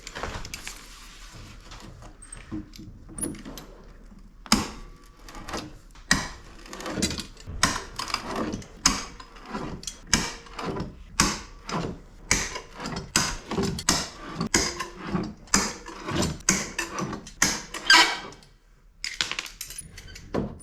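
Stainless steel screws are backed out of a rotten wooden bulkhead aboard a wooden boat. Close, sharp clicks and creaks repeat in a steady rhythm, each turn giving a distinct snap with brief pauses between.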